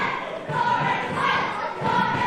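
A wrestling crowd chants in a rhythmic, rising and falling roar, many voices together filling the arena at full volume.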